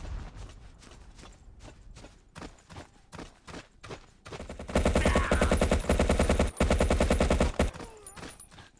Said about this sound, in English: Here's the flak gun, very frequently used in the early stages of the round.